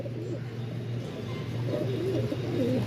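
Domestic pigeons, a champion flying breed kept in a loft, cooing in soft repeated low throaty phrases close by, with the coos growing a little louder toward the end over a steady low background hum.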